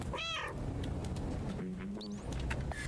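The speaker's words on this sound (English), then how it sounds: "What if I go back here and meow?" A cat meows in the video game Stray: one loud, close, drawn-out meow near the start, then softer game sounds and faint music-like tones over a steady background.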